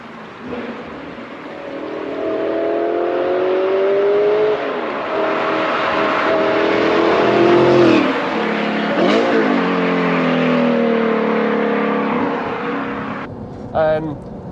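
An Audi R8 with a V8 and manual gearbox accelerates hard through second and third gear, the engine note climbing in strong sweeps with brief dips at the shifts, heard from inside the car.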